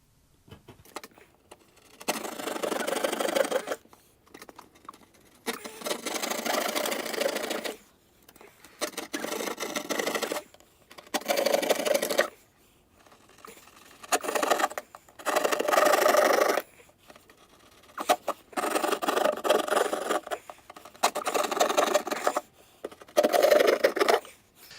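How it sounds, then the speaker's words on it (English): A hole saw cuts holes in a wall for TV mounting, with repeated loud grinding bursts of a few seconds each, separated by short pauses, close up with no talking. "So I have my hole saw here, and now it's time to do some cutting."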